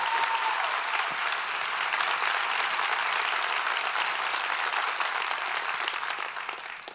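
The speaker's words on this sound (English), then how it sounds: "One more round of applause for the great Mickey Smith Jr." A large crowd at a teachers' education summit gives a speaker a steady, dense round of applause that holds for several seconds and then gradually fades out.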